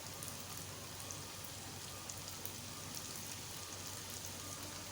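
Chicken bites frying in oil over a medium flame give a dense, even sizzle with fine crackling throughout, fairly quiet and steady, with no voices.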